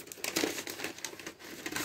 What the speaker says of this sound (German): einmal das Papier glatt streichen.